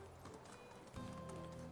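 A donkey's hooves clip-clop in Medieval Dynasty, a short steady patter under ambient game sound that steps up in loudness midway.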